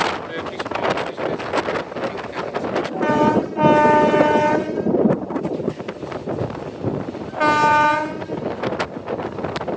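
A train pulls into Krishnanagar station yard, wheels rumbling and clattering on the track, with two loud horn blasts sounding a few seconds apart and voices talking nearby.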